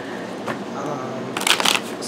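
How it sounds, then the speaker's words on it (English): Tarot card decks are shuffled up close, giving a short riffling flutter followed by a louder burst of quick snapping card riffles near the end. "I got to do some shuffles for this because I had them all in order."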